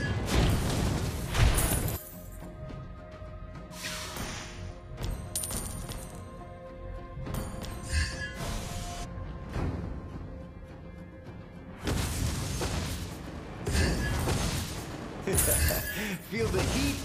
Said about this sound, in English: Lava burst!